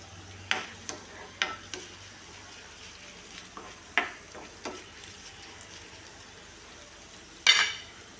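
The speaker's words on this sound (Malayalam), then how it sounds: "ലോ ഫ്ലെയിമിൽ വെച്ച് നമുക്ക് മൂപ്പിച്ചെടുക്കാം." Ingredients dry-roasting in a pan over a low flame for a roasted-coconut sambar, with a faint sizzle under scattered scrapes and taps of a spatula and one sharper clatter near the end, close by with no talk.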